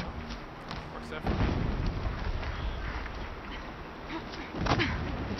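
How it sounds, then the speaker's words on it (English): In the video game Horizon Zero Dawn, low, rumbling booms of distant explosions roll in as broad, muffled bursts over a steady background wash, with a couple of heavier thuds standing out. "Explosions in the distance."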